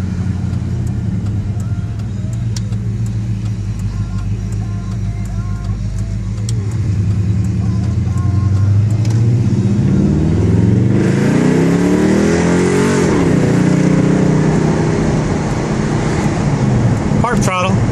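A Pontiac GTO driven out of a neighborhood on a test drive, its engine humming steadily and then revving up in rising and falling sweeps, loud and close throughout.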